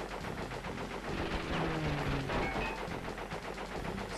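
Rapid video game machine-gun fire in Crash Bandicoot 3, a dense, continuous stream of crackling shots with a steady rhythm and a low engine drone underneath.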